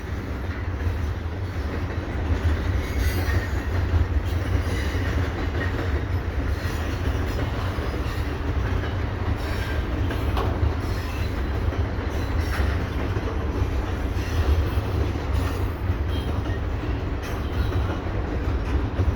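A CPKC mixed freight train with covered hoppers rolls past near Dorval on a gray, cold afternoon, a continuous loud rumble of wagons with steady wheel clatter and faint squeal lasting throughout.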